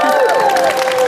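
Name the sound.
audience applause for the participants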